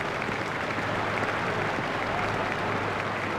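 A cricket crowd at a New Zealand versus Australia match applauds steadily, with dense, sustained clapping from a large stadium audience that fills the whole stretch.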